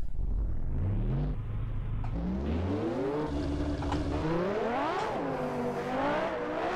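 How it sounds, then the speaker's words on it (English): Ayrton Senna's 1990 McLaren Formula 1 car in the Assetto Corsa game at the Nurburgring, its engine howling loud and close as it rises through the revs, dips on gearshifts and climbs again. "that was Ayrton Senna's 1990 McLaren around the Nurburgring"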